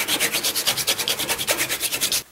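Flush trim saw cutting through a wooden dowel, about twenty quick, even rasping back-and-forth strokes, close and crisp, ending abruptly.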